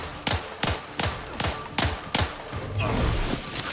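Gunfire in the video game The Outer Worlds 2, a series of sharp, loud shots at roughly regular intervals, each with a quick booming tail, followed by a brief rumbling stretch and one more shot.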